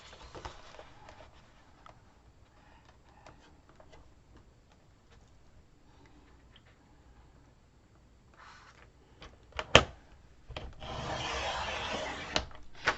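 A wooden frame piece for a shadow box is cut by hand, with faint rasping strokes and light ticks, then a sharp snap and a louder burst of sawing rasp near the end.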